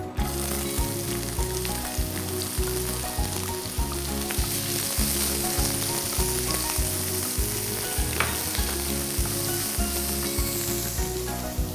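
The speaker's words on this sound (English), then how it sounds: "We'll add the chopped onion." Chopped onion hits hot oil with whole spices such as cloves, giving a loud, even sizzle that carries throughout, over a steady rhythmic music bed.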